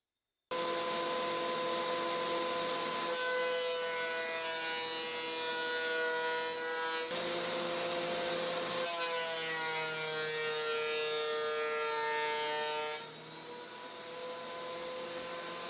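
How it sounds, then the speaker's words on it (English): A thickness planer feeds a glued-up wooden cutting board through, giving a loud, steady droning whine with a shifting pitch. The tone changes as the board passes, then the machine drops to a lower idle. "I take the workpiece to the planer. A few passes through the planer will even everything out"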